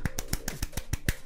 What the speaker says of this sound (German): Ich muss in die Hände klatschen, damit es losgeht.